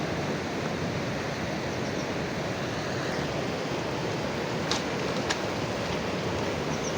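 A river flows beside a narrow mountain path, a steady, even broadband rush of water with no pauses, moderately loud and unbroken throughout.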